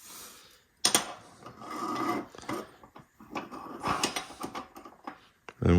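Parts slid by hand into the aluminium H extrusions of a Voron 0.2 3D printer frame, giving close scraping, rasping rubs in several short bursts with small clicks and knocks, no talk.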